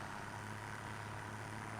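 A farm tractor engine idles in a homestead farming simulation, a steady low rumble with a faint high whine, close and continuous with no talking, the tractor noted as needing a repair.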